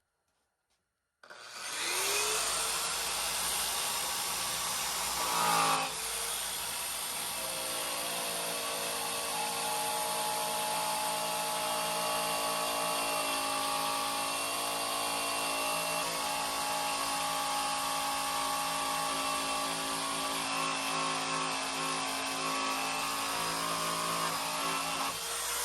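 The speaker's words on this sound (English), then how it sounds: "I'll start polishing it up" A power polisher running on a farm truck starts abruptly after a moment of silence and holds a loud, steady whine with a motor hum, briefly shifting pitch early on, then droning on unbroken.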